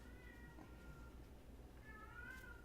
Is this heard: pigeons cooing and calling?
no